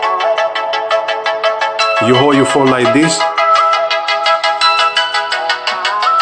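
A ringtone melody plays loudly from the speaker of an Umidigi A1 Pro budget phone, a steady run of bright repeating tones with someone talking briefly over it midway.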